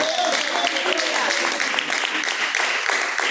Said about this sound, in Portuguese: Palmas que louvam o nome do Senhor